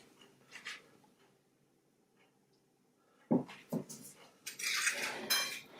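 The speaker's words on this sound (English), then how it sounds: "On the plate, we are going to mix sugar and cinnamon powder." Sugar and cinnamon powder are mixed on a plate with a utensil. There is a faint scrape, a near-silent pause, then two sharp clicks and a sustained gritty scraping and rubbing close by.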